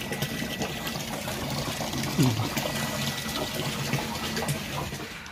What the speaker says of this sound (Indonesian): Nah, ini air dari sumur gali.